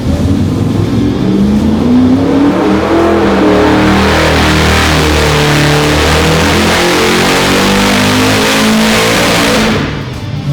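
A 1,267-horsepower HEMI engine roars through a dyno pull, loud and close, its pitch climbing steadily as it winds up, then holding at full power before the engine cuts off at the end.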